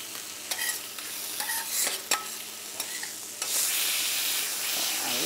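Chicken pieces for Japanese teriyaki fry in a pan with a steady close sizzle, broken by sharp clacks of turning and stirring, swelling to a louder hiss near the end.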